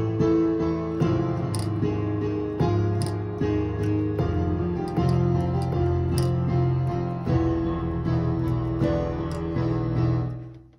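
Solo piano playing the FNaF movie intro with its three parts run back to back, a steady, moderately loud sequence of notes with low sustained bass under the melody, close and unaccompanied.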